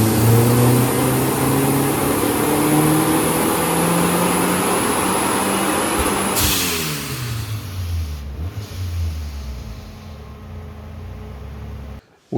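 Fiat Coupe 16V Turbo engine held at high revs on a dyno, a loud sustained roar that winds down and fades toward the end, with no voices.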